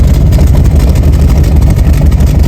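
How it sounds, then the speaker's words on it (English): An old car engine with no muffler runs loud and close, a raw, ratty low rumble with a steady throbbing pulse. "you can hear that this thing kind of sounds ratty. It's because it doesn't have a muffler."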